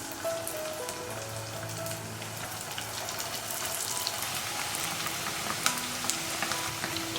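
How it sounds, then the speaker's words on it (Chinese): Small Hakka meatball dough balls deep-fry in moderately hot oil, a steady close crackle and bubbling hiss with scattered sharp pops, fairly quiet and without talk. "用筷子像这样子夹成一小团的，放下锅，油温4-5成热的时候放进来炸"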